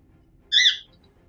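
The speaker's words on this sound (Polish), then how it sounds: "Coś to papuga moja w tle." A pet parrot lets out one short, harsh squawk, a single shrill burst lasting about a quarter second, clear but set back from the listener against a quiet background.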